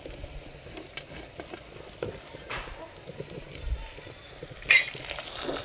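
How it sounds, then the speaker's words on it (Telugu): Chopped onion fries in hot oil for okra pulusu, a soft steady sizzle with occasional stirring scrapes and a louder burst of hissing near the end. "ఉల్లిగడ్డ పచ్చి వాసన వెళ్ళే వరకు బాగా వేపుకోవాలి"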